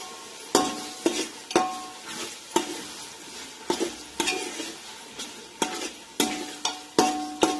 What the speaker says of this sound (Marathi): हे चांगलं आता 5-6 मिनिटं हलवून घ्यायचं।